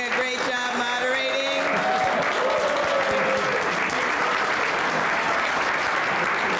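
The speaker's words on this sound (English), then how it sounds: "let's give a great round of applause to Enrique for doing a great job moderating" Sustained crowd applause for the moderator at the close of a 2018 gubernatorial candidate forum, a steady, dense roar of clapping that holds at full level throughout.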